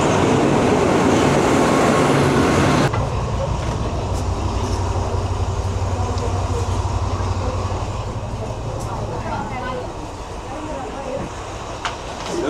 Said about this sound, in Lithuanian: Traukinukas.